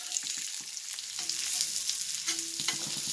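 Sardines roasting on a flat tawa with only a little oil give a steady, close sizzle with scattered crackles and occasional stirring scrapes throughout.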